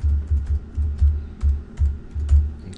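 A password is typed on a computer keyboard, giving a quick run of close, soft keystroke clicks in an uneven rhythm, alone with no talk.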